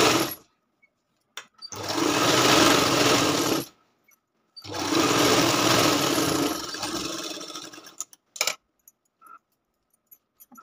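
Electric sewing machine stitching the back neck of a lined katori blouse, running in two steady bursts of about two and four seconds, each separated by short pauses, with a few faint clicks of handling fabric afterward.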